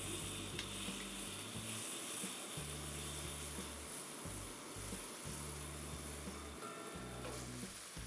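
Small raw potato cubes fry in hot oil with a quiet, continuous close-up sizzle and hiss, over a steady low hum; no one speaks.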